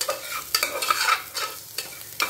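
Onions sauté in a pan for a vegetable kurma, a soft sizzle under repeated quick spatula scrapes and stirring strokes that come in short, uneven bursts close to the pan.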